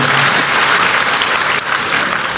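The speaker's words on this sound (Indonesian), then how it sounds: "berikan tepuk tangan kita untuk Tuhan kita" Loud, sustained audience applause in a church service, an even wash of many hands clapping throughout without a break.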